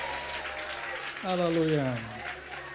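A church congregation claps hands together in a burst of applause during a Tamil Christian service, while a voice speaks over the clapping.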